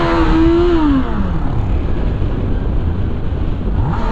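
A motorcycle engine drones loudly while riding, its pitch sliding down as it decelerates, with wind rush and road noise throughout.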